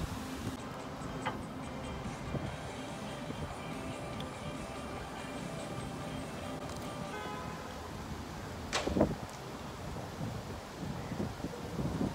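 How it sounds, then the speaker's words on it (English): Steady outdoor wind rumbles and buffets against the microphone throughout on a Miami street, forming a continuous low roar with a couple of brief louder gusts and no clear speech. "Oh, if y'all can hear me, it's the wind."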